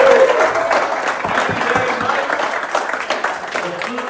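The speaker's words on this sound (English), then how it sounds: "Can we get a quick round of applause for the Lions Club for hosting us for this award?" Quick round of applause from an audience at a Lions Club-hosted award event for a fishing and paddling classic in Nackawi, New Brunswick; brisk, fairly loud clapping throughout, with some crowd murmur beneath.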